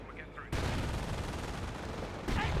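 Wolfram barrage artillery from the World War II strategy game Company of Heroes 1: a sudden dense roar of rapid firing and explosions that holds steady for nearly two seconds, with faint voices briefly before and after.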